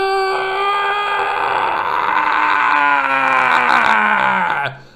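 A voice imitates the rising scream of a Stuka dive bomber plunging toward its target, a loud sustained wail with a steady pitch that slowly bends downward over about five seconds before cutting off abruptly.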